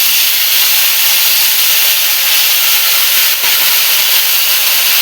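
Spice paste hits hot oil that already holds whole cumin, cinnamon, cloves and cardamom, and a loud, continuous hissing sizzle fills the whole stretch up close.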